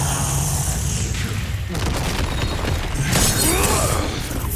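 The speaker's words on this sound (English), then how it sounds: "shoot him in the head with the machine gun" Dense, loud gunfire from a machine gun in the video game Resident Evil Requiem, a continuous rattling burst with crashing impacts that swells toward the end amid game noise.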